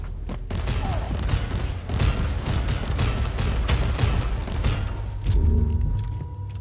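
Gunfire in the video game Warhammer Inquisitor: Martyr comes as a dense run of loud aimed shots and booming impacts, close and punchy, with a louder heavy burst near the end.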